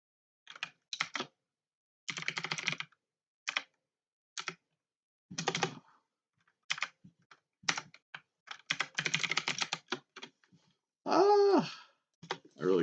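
Bursts of typing on a computer keyboard during a live game-design stream, irregular clusters of close key clicks separated by pauses, with a short loud non-keyboard sound near the end.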